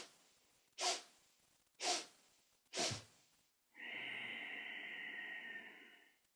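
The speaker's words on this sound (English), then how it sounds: "we're going to be inhaling for 4 sniffs and exhaling for 1 long sniff" Yoga breathing during a kundalini meditation: three sharp, evenly spaced sniffing inhalations followed by one long, steady exhale, close and clear in a quiet room.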